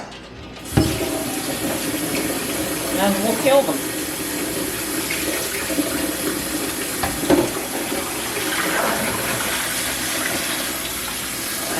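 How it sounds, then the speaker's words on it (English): Boiled eggs rinsed under a running cold kitchen tap, a steady rushing gush of water close by with occasional splashes as the eggs shift, while a person talks briefly over it. "we will take the eggs off the burner now and run them under cold water"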